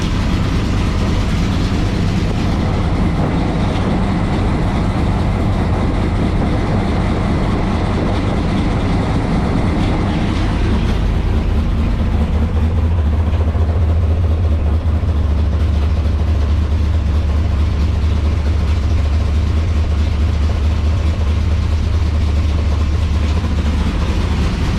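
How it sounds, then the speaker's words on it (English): A 1985 Camaro Z28 V8 with glasspack exhaust idles with a loud, heavy low rumble, steady and continuous, the drone deepening and thickening partway through, with no talk over it. "Get the car running."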